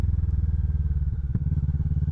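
A Kawasaki Vulcan 650 cruiser rolls at low speed through a neighborhood on the open road, its engine a steady, rhythmic low throb heard up close with a soft clatter and no voices.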